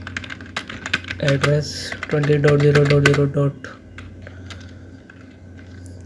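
Keys clatter on a computer keyboard while a router is configured in Cisco Packet Tracer, quick irregular clicks running under a man's spoken instructions, close and clear.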